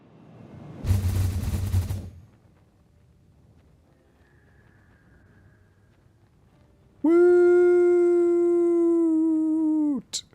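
A giant cannon fires in the video game Satisfactory: a loud, brief broadband blast, then quiet, and later a long sustained harmonic tone that holds steady for about three seconds before cutting off.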